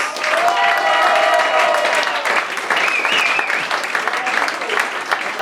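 An audience at Basler Fasnacht claps warmly and steadily, full applause with a few whistles and voices rising through it.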